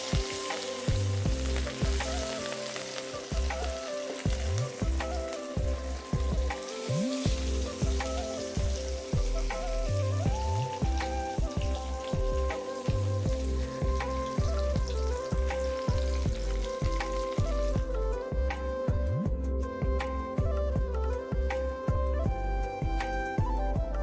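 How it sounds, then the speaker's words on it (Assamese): Fish frying in oil in a pan over a wood fire in a village kitchen gives a continuous loud sizzle with crackling pops and occasional stirring scrapes, steady throughout. "মই মাছখিনি ভাজিবলৈ আৰম্ভ কৰিলোঁ।"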